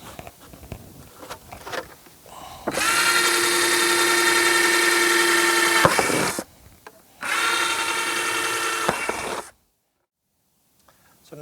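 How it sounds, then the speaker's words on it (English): Power drill boring holes in plastic water jugs for winter sowing, two loud sustained high whines of about four and two seconds separated by a short pause, with handling clatter before and silence after. "So now that we have holes drilled, jug cut"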